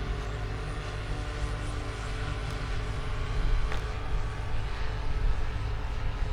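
A military drone swarm flies over a training area near a village, giving a steady, continuous droning engine hum with a broad, sustained whine that swells slightly midway and holds at a moderate distance, with no voices.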